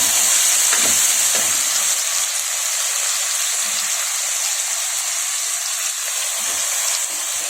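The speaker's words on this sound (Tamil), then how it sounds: "இப்போது வெங்காயம் தக்காளி வதங்கிடுச்சு" Onions and tomatoes sauté in a pan for a nativ chicken curry, giving a continuous bright hissing sizzle, close and fairly loud, with a few soft stirring scrapes.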